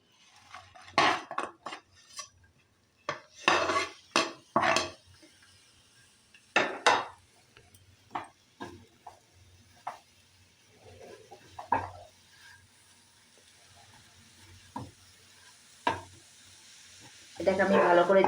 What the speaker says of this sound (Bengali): নারকেল আর গুড়টাকে ভালো করে মিক্সড করে নেব।